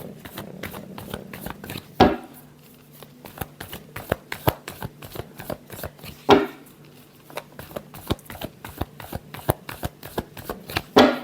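A deck of tarot cards is shuffled by hand close up, giving rapid crisp flicks and riffles broken by a few louder slaps as the pack is squared, with no talking.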